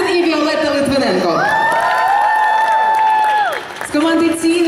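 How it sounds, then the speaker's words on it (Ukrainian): Concert audience at a televised Voice of Ukraine season 8 finalists' show in a Kyiv shopping centre clapping and cheering, a steady wash of crowd noise under a loud, drawn-out announcer voice. "Оплески, оплески нашим артистам."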